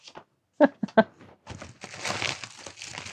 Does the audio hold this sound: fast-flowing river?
no